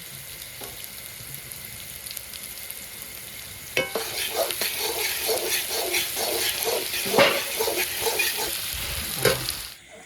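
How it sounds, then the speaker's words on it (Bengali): Sliced onions with a pinch of salt fry in hot oil in a pan, a quiet low hiss at first, then a louder steady sizzle with repeated scraping stirs and clinks from about midway, with no talking. "পেঁয়াজগুলো ভাজা হয়ে গেছে"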